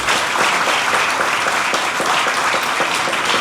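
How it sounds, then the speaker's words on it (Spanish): Sustained audience applause at a commemoration of the 80th anniversary of the Red Army's victory over fascism, a dense, steady wash of many hands clapping close by with no voices over it. "que es un aplauso para esta conmemoración"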